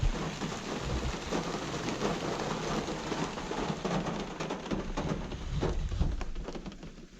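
Steady rain hissing and pattering throughout, with a faint bird cooing somewhere in the background.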